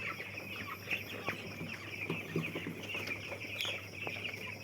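A flock of fifteen-day-old broiler chicks clucks and cheeps continuously in a shed, with many overlapping small calls at a moderate, steady level.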